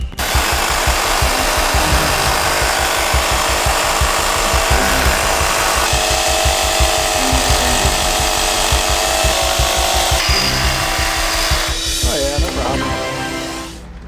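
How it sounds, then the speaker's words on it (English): An angle grinder cuts a car bracket in half, giving a loud, close, continuous harsh grinding with a rapid pulsing rhythm that runs unbroken and trails off near the end. "4 hands, 1 angle grinder."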